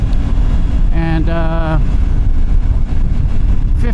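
Wind noise roars steadily against the rider while riding a 2024 Suzuki V-Strom 800RE adventure motorcycle, a constant loud broadband rush with engine drone underneath and a brief tonal whine partway through.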